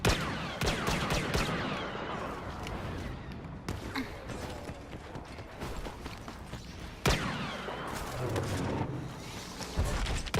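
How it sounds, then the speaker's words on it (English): Rapid blaster fire from a Star Wars Battlefront heroes-versus-villains match crackles in dense bursts, with sharp louder volleys at intervals over a busy background of game effects; a voice briefly speaks. "Open fire."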